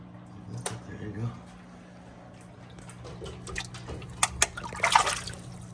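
Piranhas splashing at the surface of an aquarium during a feeding frenzy, with scattered close splashes and drips that build to sharp bursts near the end, while a person talks over the water sounds.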